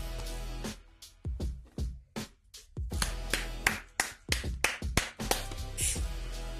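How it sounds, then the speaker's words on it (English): One person claps close by in sharp, uneven bursts, with short gaps between groups of claps and a few quieter taps, in an indoor recording by a basketball fan. "I gotta clap them up."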